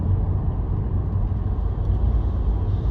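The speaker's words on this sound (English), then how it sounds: "There's a car." A car engine rumbles steadily nearby, a continuous low road noise with no voices.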